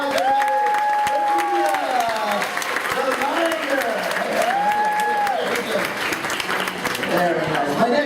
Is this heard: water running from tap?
no